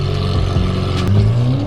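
A Lamborghini Aventador's engine revs hard and close up, a loud roaring burst that swells and climbs in pitch, with no talk over it.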